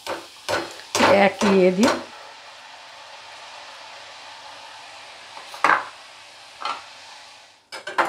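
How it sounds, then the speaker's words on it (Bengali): Red boondi sweet frying in hot oil gives a soft, steady sizzle beneath intermittent ladle scrapes and stirring clinks, with a short burst of talk at the start. "দর্শক বন্ধুরা, এবার লাল বোঁদেটা ভাজবো"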